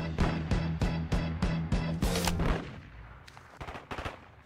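Sniper rifle fire in a first-person shooter video game: a quick series of sharp, loud shots at an even rhythm, followed by a few fainter, more distant reports.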